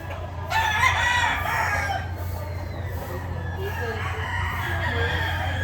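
A bullstag rooster at a gamefowl sale in Lipa, Batangas crows loudly nearby, one long cock-a-doodle-doo over a steady background hum with faint voices around.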